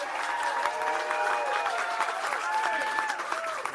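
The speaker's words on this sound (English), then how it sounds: "So let's give a big round of applause to Isaac, his family, his partners, and everybody here" Crowd applause at a Florida campaign event where Governor Rick Scott announces a U.S. Senate bid, steady clapping with faint voices mixed in throughout.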